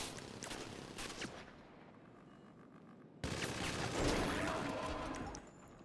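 Gunfire in the video game GTA Online: dense, sustained rapid shooting, like automatic weapons, fills the scene, pauses briefly, then resumes louder, with distant crashes layered in.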